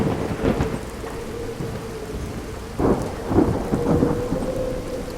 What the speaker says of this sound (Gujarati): આકાશમાં વાદળો બન્યા, વીજળી ચમકવા લાગી અને પછી શરૂ થયો એક અનંત વરસાદ.